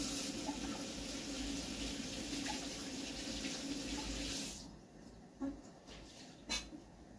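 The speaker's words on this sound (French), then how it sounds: "On lave les mains un peu" Tap water pours steadily into a kitchen sink for hands being washed, a close, continuous splashing hiss that stops abruptly partway through, followed by a few quiet clinks and drips.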